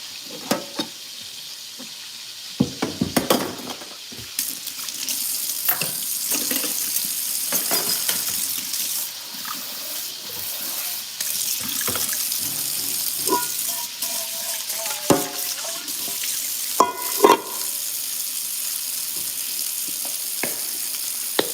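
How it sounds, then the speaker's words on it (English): Jasmine rice is washed in a pot of water with continuous swishing, rattling and sloshing as hands stir the grains, with a few louder splashes and clacks, close and fairly loud. "we're going to go ahead and wash our rice"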